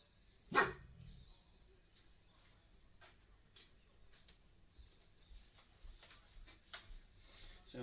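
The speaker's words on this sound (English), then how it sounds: "What are you barking at, Bronson?" A dog named Bronson gives a single sharp bark near the start in a quiet workshop room, followed by soft rustling and small ticks.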